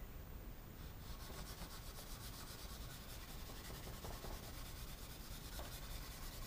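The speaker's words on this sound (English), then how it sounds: "rub the pastel over the top" Pastel rubbed over the wing of a HobbyKing B-17 foam model, a soft, steady scratchy rubbing in continuous rhythmic strokes, close and quiet with no talking.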